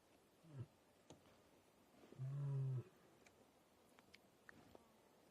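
A lioness on safari gives a short low roar-like contact call, apparently answering the rest of her pride and the male, heard once at moderate distance over quiet bush ambience with faint ticks.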